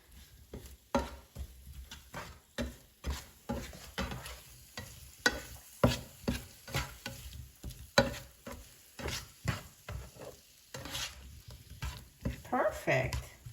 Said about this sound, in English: I'm gonna mix it, coat it with honey and cinnamon evenly